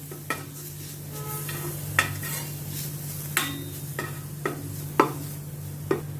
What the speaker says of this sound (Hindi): अनियन के साथ इसको अच्छी तरह से मैं सौते करती हूँ